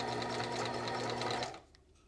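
A sewing machine edge stitches along stretchy ITY knit fabric for a Sphinx top, a close, loud, steady whirring hum that stops abruptly near the end.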